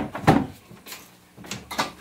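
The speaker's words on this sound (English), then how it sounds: "let me throw this door on." A door is fitted onto a homemade fur tumbler, producing hollow knocks and bumps with scraping handling noise, one heavier thud followed by lighter clunks, close by.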